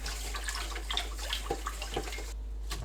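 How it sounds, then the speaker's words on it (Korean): Sea lettuce (parae) is rubbed and rinsed by hand in a bowl of salted water, giving soft, close sloshing and splashing over a steady low hum. "파래 넣고 조물조물 씻어줍니다."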